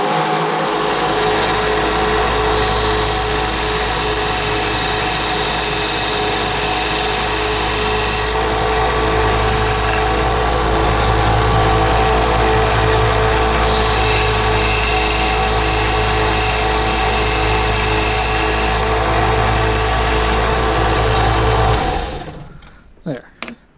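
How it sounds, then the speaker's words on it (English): A belt sander grinds down a part for a CFX Neopixel lightsaber, a loud, continuous motor whine and abrasive rasp running unbroken for about twenty seconds before winding down and stopping, followed by a couple of quick knocks. "I'm going to use my belt sander"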